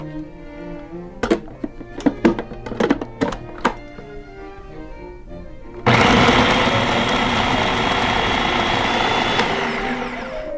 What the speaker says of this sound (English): We'll put them in our food processor.